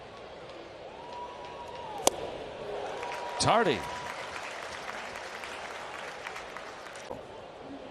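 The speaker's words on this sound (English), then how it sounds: "A lot of noise from this crowd" Crowd at a Cincinnati Reds baseball game hums with broad cheering and applause beneath a commentator's voice, with a sharp crack and a brief swell of noise midway.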